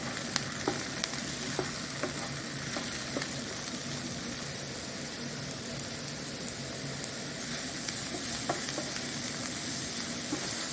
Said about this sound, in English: we've sauteed well our onion and mushrooms